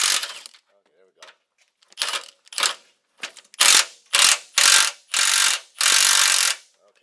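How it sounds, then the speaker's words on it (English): Ratchet wrench clicking as bolts come off the rear suspension of a 2004–07 Buick Rainier during an air-to-coil spring swap, in short bursts that grow into longer, louder close-up runs. "got a little wrench on the other side of it"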